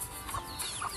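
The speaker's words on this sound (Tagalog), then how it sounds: "So ayan ang mga manok natin." Native chickens cluck softly in a backyard flock, a couple of short clucks over a steady background hum, brief and moderately faint.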